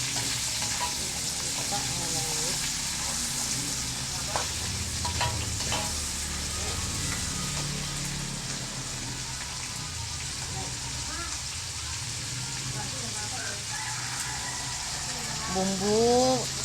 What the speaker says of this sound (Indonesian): ditambah juga dengan bawang digoreng sampai layu, tomat masukkan digoreng sampai layu juga